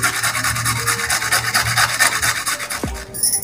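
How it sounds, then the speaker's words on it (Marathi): Fresh ginger is rubbed against a hand grater for paneer bhurji, a loud close run of rhythmic rasping strokes for about three seconds, ending with a brief clatter. "तर आलं सुद्धा मी किसून घेणार आहे।"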